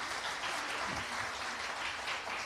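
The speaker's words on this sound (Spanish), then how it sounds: "Un aplauso para ellos, por favor." Faint, distant applause from a church congregation at an anniversary service, a soft continuous patter of many hands lasting a couple of seconds.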